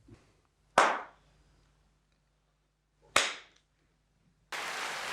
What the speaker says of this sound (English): That's definitely what he meant as a big clap.